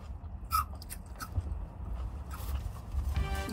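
Crunchy bites and chewing of a Popeyes fried chicken sandwich, heard up close as a few sharp crackling crunches followed by softer mastication.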